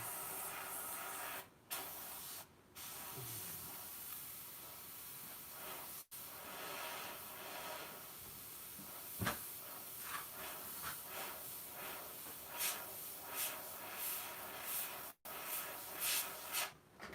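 Airbrush spraying paint while highlighting a Hellraiser Pinhead figure, a steady close hiss running almost throughout with a few brief breaks and small bursts as the trigger is worked.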